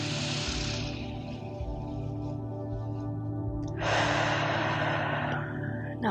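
A person breathing out slowly during a Hatha yoga flow, a soft, close, airy exhale over a low steady background hum, with a brief stronger rush of breath near the end; no talking.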